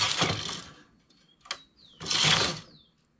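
A knitting machine carriage pulls across to knit a five-stitch cord on a domestic knitting machine, giving two loud, whirring, clattering passes about two seconds apart with a brief click between them.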